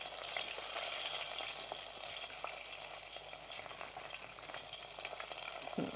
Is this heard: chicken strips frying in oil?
yes